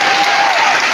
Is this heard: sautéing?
no